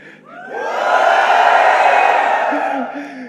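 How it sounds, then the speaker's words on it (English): Hundreds of fans at a Redmi K20 Series launch event in a large hall break into a loud sustained cheer with whoops and yells, swelling quickly and holding for about three seconds. "No, give me a flagship cheer."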